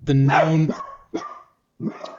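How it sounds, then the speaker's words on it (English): A dog barks indoors in a home, three close, loud barks with short gaps, the first drawn out and tonal, the later two sharper, while a person speaks briefly. "You can hear my dog barking."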